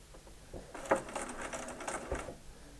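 A sewing machine stitches the points of an eight-point quilt star in short, quiet bursts of rapid mechanical chatter, slowing toward tiny stitches near a seam crossover.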